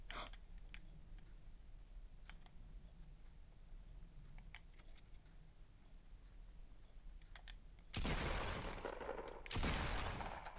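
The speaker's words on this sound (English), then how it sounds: "Why are you shooting over here?" Gunfire in the Fortnite video game: a faint, sparse crackle of distant shots through most of the stretch, then two loud, dense bursts of rapid firing near the end.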